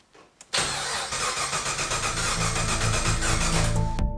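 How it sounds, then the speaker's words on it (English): An LS V8 engine swapped into a BMW E30 cranks briefly, then fires and catches with a loud, close roar, settling into a rough, throbbing idle that pulses steadily until it cuts off at the end. "And now we crank it and hope that that number goes up to a safe level."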